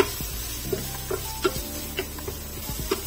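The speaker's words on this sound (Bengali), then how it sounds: "একটু নেড়ে ছেড়ে মিশিয়ে নিচ্ছি, একই সাথে ফ্রাই করে নিচ্ছি আমি" Beef frying in a pan while being stirred, a faint steady sizzle with soft periodic scrapes and taps of a utensil, quiet and close, with no talking.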